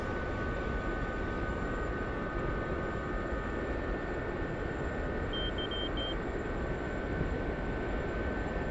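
Gazelle SA342M helicopter in the DCS flight simulator, a steady broadband rotor and turbine roar holding level throughout, with a faint electronic beeping briefly partway through.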